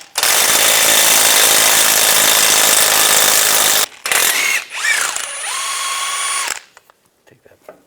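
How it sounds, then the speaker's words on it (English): A power tool with a 21mm socket removes a bolt from the rear shock of a 2010-2016 Cadillac SRX, whirring loudly and continuously for several seconds, then in shorter bursts before stopping. "Using a 21mm socket, take this bolt out"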